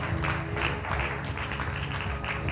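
An audience applauds a student at a school quiz event, a dense wash of steady clapping that holds at an even level throughout, with no talk over it.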